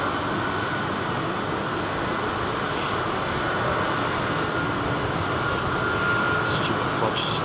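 A thirty-year-old Boeing 767 with retrofit winglets departing London Heathrow, its engines giving a loud, sustained broadband roar throughout, with faint talk underneath.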